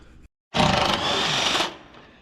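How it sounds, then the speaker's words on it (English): Impact wrench removing bolts from a John Deere 4840 tractor panel during an overhaul: one loud, close, buzzing burst of about a second after a short pause, which then tapers off. "grab my impact, start popping them bolts all out"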